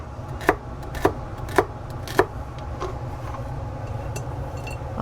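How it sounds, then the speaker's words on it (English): A knife chops vegetables on a cutting board in four crisp, evenly spaced knocks, then fainter taps over a low steady background hum. "So we're going to cut all these vegetables"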